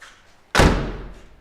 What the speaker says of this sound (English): When you open a door in an old car and you close it again, that's the way it should sound